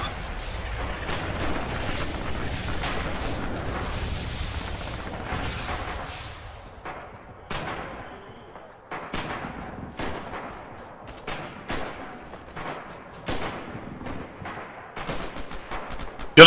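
Gunfire and machine-gun bursts fill a video game match between Russia and China, with dense rattling volleys and heavy booms at first, then sparser, sharper shots, some near and some distant.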